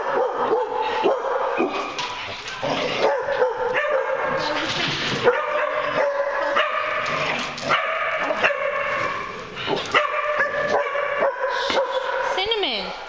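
Several dogs at a doggy daycamp bark, yip and whimper almost nonstop, loud and close, with overlapping voices and some human chatter mixed in.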